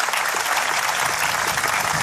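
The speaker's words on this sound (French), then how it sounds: "On va les applaudir très fort." Applause from an audience at a Moroccan royal prize ceremony for golf's Trophée Hassan II, dense and steady throughout, filling the space without any voice over it.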